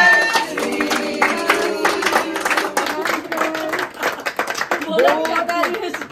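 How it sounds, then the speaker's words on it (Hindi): Claps ring out at a family anniversary celebration, a steady run of hand clapping mixed with voices and tonal sounds throughout. "जोर से तालियां"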